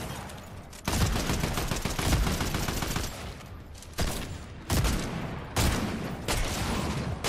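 Sustained gunfire in the video game Fortnite while fighting the Cerberus boss: dense, loud volleys of shots that run almost without pause, with brief dips between bursts.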